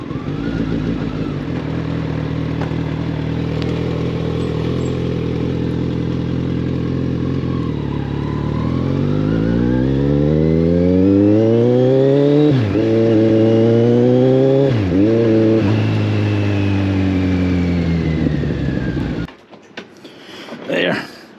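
A 2015 Kawasaki Ninja 1000ABS motorcycle idles loudly and close, then revs up in rising sweeps with two sharp throttle blips before the engine cuts off, leaving brief handling noise.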